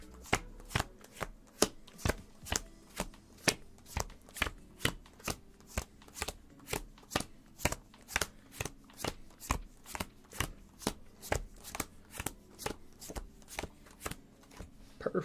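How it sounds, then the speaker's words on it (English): A deck of playing cards is shuffled over and over, with steady riffling bursts about twice a second that sound close and crisp, and no one speaks. "We're going to get those shuffled together."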